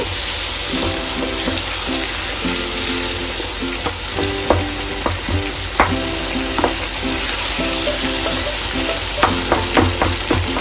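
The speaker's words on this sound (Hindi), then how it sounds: "जिस पानी में हमने चने बॉयल किए थे ये वो पानी है इसको हमने निकाल के रख लिया था इसको हम इसमें डालेंगे" Reserved chickpea boiling water is poured into a hot pan of aloo chana gravy, hissing and sizzling loudly and continuously with bubbling, stirring clatter on top.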